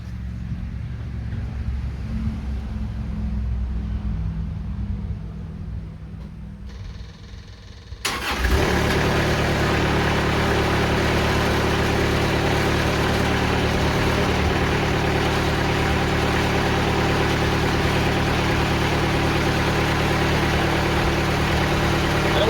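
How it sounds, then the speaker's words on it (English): Sawmill engine cranking up for cutting black walnut slabs: a low idle gives way to a sudden start, then a loud, steady engine roar that runs on without a break. "we'll go and crank up the mill"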